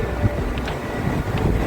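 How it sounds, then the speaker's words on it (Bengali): Strong, steady wind buffets the microphone at a metro station platform in Seattle, a continuous low roar with no pauses. "ভীষণ জোর হাওয়া দিচ্ছে।"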